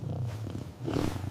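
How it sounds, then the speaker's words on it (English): A Bombay cat purrs in a brief, steady, low rumbling burst, close and fairly soft, with no voices over it. "B is for Bombay cat."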